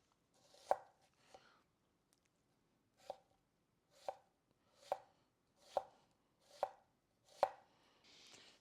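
A knife julienning an onion on a cutting board gives about eight sharp, crisp chops spaced roughly a second apart, quiet and close, with no talk.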